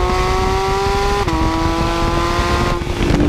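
Naturally aspirated flat-six of a Porsche 992 GT3 held high in its rev range, a loud, steady engine howl that dips slightly in pitch partway through and carries on without any talking.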